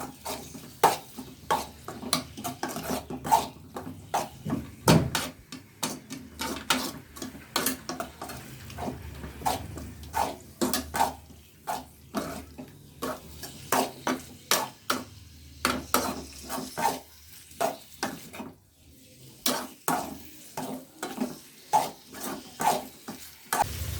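Chicken liver fry is stirred in a pan, with repeated close scraping and clinking of the spoon against the pan over a soft sizzle, in an even rhythm and with no talking.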